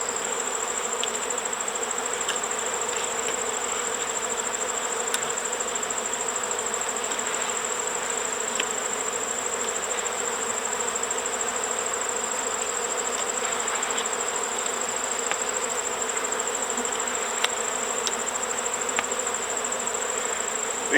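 Honey bees buzz around brood comb in an opened hive, a steady dense drone from many insects close by, continuous and even throughout with no talking.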